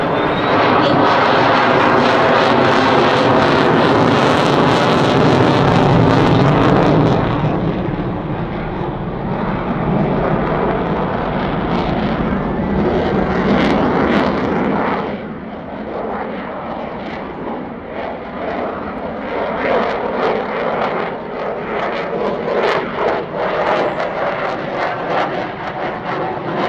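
A Mitsubishi F-2 fighter jet from Gifu base makes a low-speed pass in front of the crowd at the Air Festa Hamamatsu 2024 air show, then turns. Its loud, sustained jet roar fills the whole stretch and eases slightly partway through.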